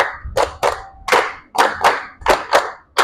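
A group of participants in a school sports session claps in unison, about ten crisp, evenly spaced claps in a steady rhythm, loud and close with no talking.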